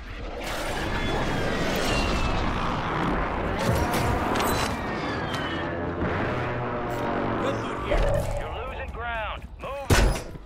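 Heavy gunfire and explosive blasts in the battle-royale shooter Warzone build into a dense, continuous barrage with mechanical clatter, ending in a loud, sharp final burst.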